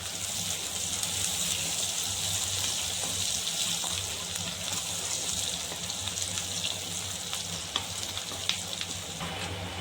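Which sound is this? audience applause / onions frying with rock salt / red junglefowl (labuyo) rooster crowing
onions frying with rock salt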